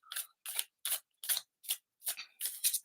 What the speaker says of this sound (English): So how's everybody doing while I shuffle these cards?